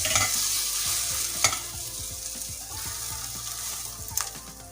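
Egg paratha frying in butter in a pan, a steady close sizzle with repeated scraping and stirring strokes throughout, no voices.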